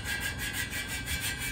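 Steady abrasive rubbing from a small machine planing a car engine part on a bench, continuous with a faint rhythmic pulse and a thin high whine, close by with no talk.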